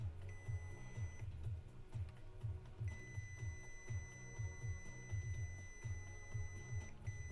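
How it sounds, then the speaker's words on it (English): Electronic equipment on a laptop repair bench gives short, high, steady beeps that stop and start, sounding for long stretches. Under them runs a quick low pulsing pattern that repeats in a regular rhythm, and all of it is faint. "Sorry for all the beeping."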